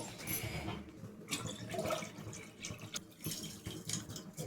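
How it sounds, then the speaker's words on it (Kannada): Water poured into a cooking pot for a Sankranti dish, with a close, continuous splashing and gurgling stream and a few dripping accents, heard without talk. "ನೀರು ಹಾಕೋಬೇಕು ಫಸ್ಟು"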